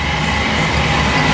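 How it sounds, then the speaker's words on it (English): A train rumbles past close by in a steady, loud roar of wheels and carriages, heard near a flooded river bridge with no voices over it. "There is a bloody train."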